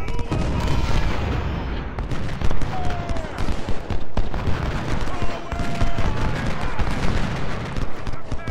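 Dense musket volleys and booming cannon fire from a Civil War battle near Corinth in Ultimate General: Civil War, a loud continuous crackle of shots with heavy thuds under it, while someone talks over the gunfire.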